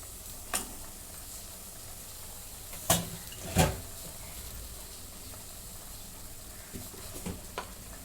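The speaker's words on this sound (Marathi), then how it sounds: "आता हे मटण टाकून घेते" Mutton pieces hit a hot pan in a home Maharashtrian spicy mutton curry, giving a soft steady sizzle with a few sharper pops and clatters from stirring, moderately quiet, with no voices.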